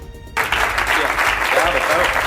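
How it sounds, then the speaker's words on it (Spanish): Dense, loud applause from a large crowd at the PSOE party congress swells in after a brief quiet start and continues steadily to the end. "Los frentes judiciales no apagaron estos aplausos del fin de semana en el Congreso del PSOE."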